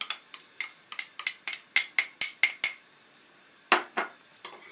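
A spoon or whisk clinks and scrapes against a bowl while fine icing sugar, melted butter and vanilla are mixed, giving a quick irregular run of sharp taps, then a pause and a few more strokes, close and clear with no talk.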